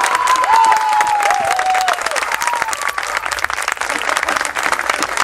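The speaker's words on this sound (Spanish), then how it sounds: "Por favor, un aplauso para ellos." Loud, dense applause from an audience for musicians who have just played a cover song. The clapping is close and sustained, with a thin whistle-like tone drifting above it for the first couple of seconds.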